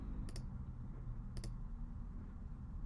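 Two quick pairs of mouse clicks, each a sharp double click, spaced about a second apart, crisp and close over a low steady background hum while navigating a fitness tracker app.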